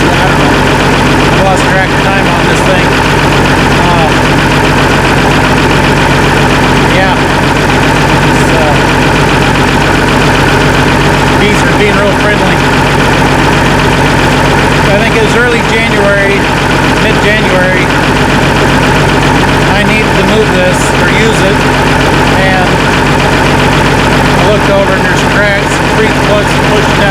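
An old Minneapolis Moline G tractor fitted with a loader idles loudly and steadily, a continuous mid-pitched engine drone with a rough, even throb that runs the whole time.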